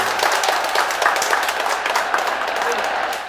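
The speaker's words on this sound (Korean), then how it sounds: "박수 한번 주세요, 그러면요." Audience clapping at a Korean English-language lecture for middle-aged learners, a steady broadband patter of many hands lasting a few seconds at moderate loudness.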